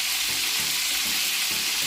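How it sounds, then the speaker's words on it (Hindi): Green chillies frying on a tawa beside seekh kababs, a steady bright sizzle of oil throughout with soft stirring or pressing sounds at intervals, close and continuous. "एक साइड पे हम सब्ज़ मिर्चें भी पका लेंगे।"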